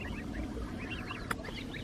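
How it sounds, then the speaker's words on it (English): A family of geese, goslings with their parents, eats dog biscuits at the edge of Clavering Lakes with soft, repeated honks and chirps, faint and somewhat distant. "a swarm of baby geese and his parents have just decided to come in and demolish all the dog biscuits"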